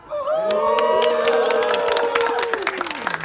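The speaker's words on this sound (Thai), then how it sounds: "ขอเสียงกองเชียร์" Crowd at a Thai temple boxing match cheers loudly for a fighter, a dense sustained roar of many voices with whoops and shouts that swells quickly and stays strong throughout.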